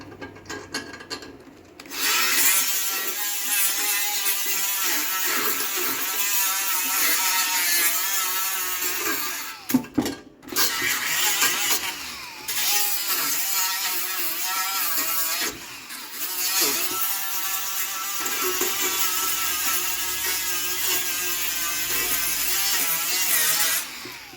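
An angle grinder cutting and grinding metal on a modified Predator 301 gas tank, a loud harsh continuous whine that varies in pitch as it bites, with a few brief pauses.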